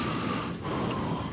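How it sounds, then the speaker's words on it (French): Loud, rasping snoring-like breaths sound close up, one long drawn-out breath with a brief pause midway and a sharper catch at the end, with no talking. "ça c'est pas quelqu'un qui respire fort, c'est quelqu'un qui ronfle."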